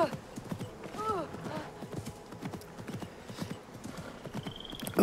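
A horse gallops in the video game Assassin's Creed Mirage, its hooves clip-clopping in a steady, quick rhythm throughout. Occasional snorts are heard, along with someone talking over the hoofbeats.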